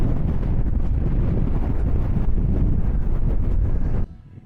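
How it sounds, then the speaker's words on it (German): Strong mountain wind near Villarrica in Chile buffets and roars across the microphone, loud and continuous, then drops off sharply in the last half second. "Richtig krasser Wind."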